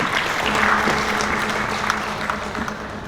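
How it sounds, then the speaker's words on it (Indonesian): Applause from the audience at a Bali DPRD regional assembly session, a dense steady wash of many hands clapping that fills the hall from start to finish, with faint voices mixed under it. "Tepuk tangan untuk kita."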